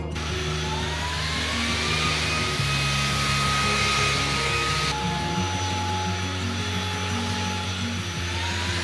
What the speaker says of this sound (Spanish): A ti te encanta que te dé con la aspiradora a la otra